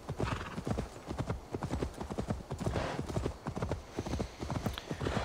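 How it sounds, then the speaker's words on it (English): Horse galloping in Assassin's Creed Valhalla: a rapid, steady clip-clop of hooves running continuously and fairly close, with a brief whinny mixed in and no talking. "I should probably just call my horse."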